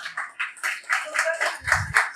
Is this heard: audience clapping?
yes